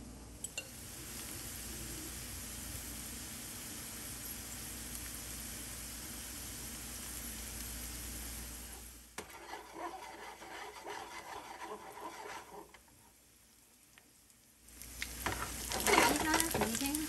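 Homemade hash browns fry in a pan with a steady, close sizzle that drops to a quieter crackle midway, then swells again with brighter spattering toward the end.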